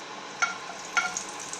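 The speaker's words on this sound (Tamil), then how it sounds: "சோம்பு கொஞ்சம் வெடிக்கட்டும்." Steady sizzling of fennel seeds in hot oil with a couple of sharp little pops and crackles, close by.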